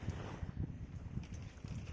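Strong wind blows outdoors beside a greenhouse in spring, producing a faint, gusty rumble of buffeting air against the microphone that rises and falls in uneven pulses.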